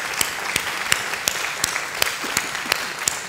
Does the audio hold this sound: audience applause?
yes